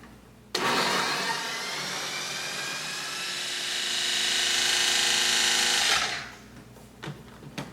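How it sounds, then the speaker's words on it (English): A food processor blitzes chickpea hummus before roasted red pepper goes in: a loud, steady whirring motor starts abruptly, runs continuously for about five seconds, then cuts off, leaving faint clatter. "I'm going to blitz this together a little bit first before we add the roasted red pepper"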